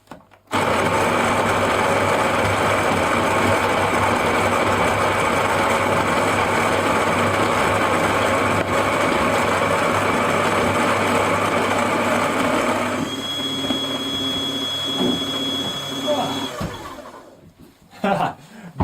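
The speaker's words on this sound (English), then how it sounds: "I'm turning the grinder on in 5, 4, 3," A grinder runs steadily at close range in a single loud, continuous whine, its pitch shifting slightly partway through before it winds down and cuts off near the end.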